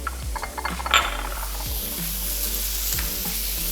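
Tomatoes sizzle in a hot pan as they are added for kasundi fish tikka, with a steady frying hiss, a few clacks and scrapes of stirring, and a low background hum.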